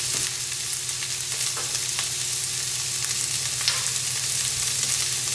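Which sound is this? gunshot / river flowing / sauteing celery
sauteing celery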